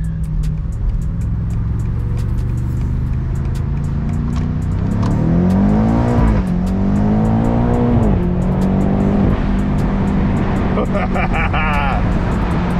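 A 2022 BMW M8 Competition convertible engine revs loudly and close by, rising and falling in pitch through several sustained throttle sweeps over a steady rumble, with no speech heard.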